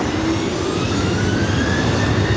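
A Southwest Airlines Boeing 737 jet rolls for takeoff on runway 24 right at LAX, a loud, steady, close engine roar with broad rushing noise that holds throughout.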